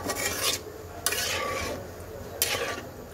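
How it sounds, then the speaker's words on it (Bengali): Radhuni spice powder being stirred into a cooking pan gives three scraping, rasping strokes against the metal, each about half a second long, with a soft sizzle underneath and no voices. "এইবার রাঁধুনি গুঁড়াটা খুব সুন্দর করে মিক্সড করে দিলাম।"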